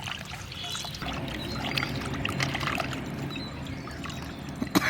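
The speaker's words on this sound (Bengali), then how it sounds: "পরিষ্কার করে ধুয়ে নিচ্ছি।" Water poured over green jackfruit pieces as they are washed by hand, a continuous splashing and trickling with small knocks, close and fairly loud throughout.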